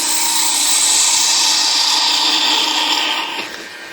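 Wood lathe facing off a walnut blank for an acorn cap, a steady high whine of tool cutting spinning hardwood that holds for several seconds, then eases off near the end.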